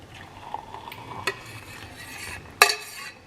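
A spoon stirs a mug of hot chocolate, with a few sharp clinks against the sides standing out over a soft, quiet swirl.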